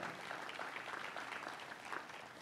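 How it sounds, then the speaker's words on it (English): Audience applause at a grand opening ceremony for new university buildings, a steady, even wash of many hands clapping at moderate distance for a couple of seconds. "Special round of applause for him"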